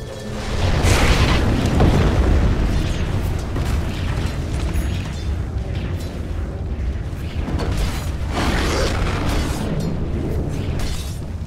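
A Radiant bottom tower collapses in a Dota 2 match, a loud sustained crumbling boom with rumbling debris and game mechanisms clattering over roughly eleven seconds, with swells near the start and again toward the end.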